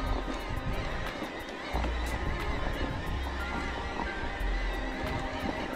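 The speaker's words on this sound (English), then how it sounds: "Hello, donkeys." Donkeys call beside a UK trail during an electric mountain bike ride, with loud, repeated braying cries over steady outdoor background noise.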